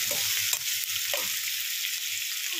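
Eggs fry in hot oil with curry leaves in a pan, a steady close sizzle broken by a few scraping stirs and no talking.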